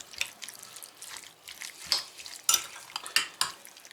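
Spoon stirring a red capia pepper meze dressed with olive oil, a series of wet scraping clatters in an irregular rhythm, close and fairly loud, with no voices.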